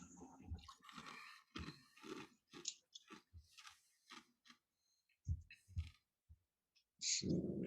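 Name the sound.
crunching ice while drinking Mountain Dew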